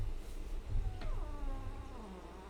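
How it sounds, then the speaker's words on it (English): A cat meows once, a faint drawn-out call rising then sliding downward, somewhat distant over a low background hum, with no talking. "You guys hear that cat?"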